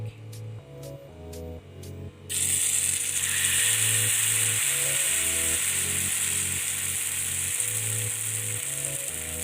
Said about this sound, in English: So my oil is already hot. I'm going to scoop in my pancake.